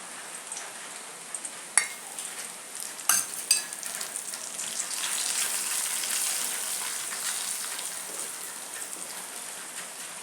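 Chili powder stirred into warm, not hot, oil for mango pickle, with the flame turned off: a soft, steady sizzle with a few sharp spoon clinks on the pan early on, then a continuous gentle hiss.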